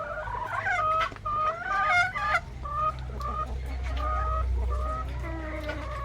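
Chickens on an egg farm, Rhode Island crosses with a rooster among them, clucking and squawking close by in busy overlapping calls, over a low steady hum.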